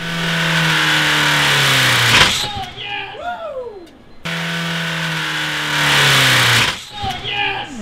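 A car engine running with no oil revs hard twice, each surge rising to a roaring peak and then dropping away with whiny, falling tones.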